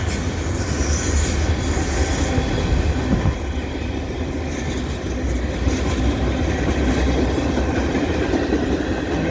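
A CN westbound mixed freight train with tank cars rolls past at Dorval in winter, a loud continuous rumble of wheels on rail with metallic rattling and faint squeals, steady throughout with no voices.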